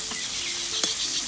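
Oil poured into a hot pan sizzles during outdoor village cooking in a farm field: a steady, bright hiss with faint crackles, close and fairly loud, without talk.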